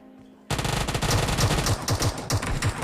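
Rapid bursts of automatic gunfire from a PUBG Mobile match while the player jumps and fires, starting abruptly after a brief quiet moment and continuing loud and dense in quick repeated volleys to the end.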